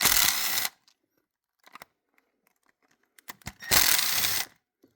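Ratchet clicking in two loud bursts, near and close to the ear, while bolts behind the ignition coil of a 2015 Audi Q5 are loosened during PCV valve work, with scattered light tool clatter between the bursts.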